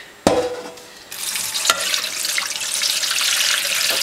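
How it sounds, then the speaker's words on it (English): Excess rinse water is poured off yarn dyed black with McCormick's food coloring, a steady splashing gush that starts with a sharp knock and then runs continuously and fairly loud. "Let's start by pouring out the excess water."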